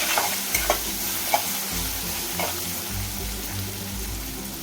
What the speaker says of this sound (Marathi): त्यानंतर लाल तिखट त्यानंतर काश्मीरी मसाला परतून घेते